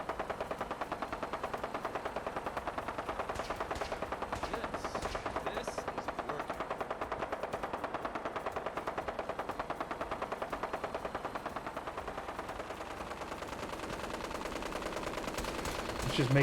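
Rapid, sustained automatic gunfire from a weapon in the video game Fallout 4 rattles on in a tight, regular rhythm for the whole stretch, steady and fairly loud.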